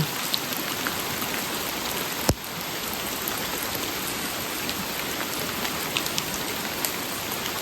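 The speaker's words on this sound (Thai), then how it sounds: "ฝนตกใหญ่แล้ว" Heavy rain pouring down steadily, a dense, loud, continuous hiss of drops on surfaces with no pauses and one sharp knock partway through.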